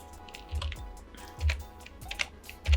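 Soft computer keyboard typing: a few light, scattered key clicks and thumps, close and quiet, with no talk.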